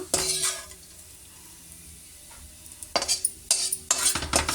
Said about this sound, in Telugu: ఇలా ఫ్రై అయ్యాక నట్స్లోనే వేసేస్తాము రేజన్స్ కూడా